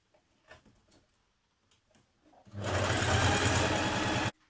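Sewing machine stitching leggings, a close, loud, fast mechanical whir that starts abruptly after a few quiet handling sounds and runs steadily for under two seconds before stopping.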